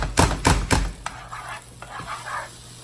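Butter just beginning to sizzle in a pan for shrimp scampi: a few sharp stirring clatters at first, then a soft, steady frying hiss close by, with no talking.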